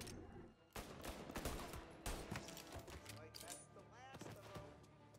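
Rapid bursts of gunfire from Mafia Definitive Edition crackle in quick, uneven volleys, loud and close, with sharp shots clustered together and brief gaps between bursts.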